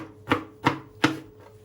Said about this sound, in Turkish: Şöyle keskin bir bıçakla çok da irili ufaklı gözetmeden rastgele doğruyorum.